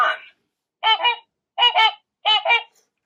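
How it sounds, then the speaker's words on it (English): A swan calls in clear, loud, nasal honks: four bursts, each split into a quick double note, with short silent gaps between them and nothing else heard. "it looks like we could hear how that swan sounds like"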